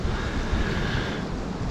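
Steady, strong wind of about 20 mph roars and buffets the microphone without a break, a dense low rumble with a hissing, surf-like wash over it.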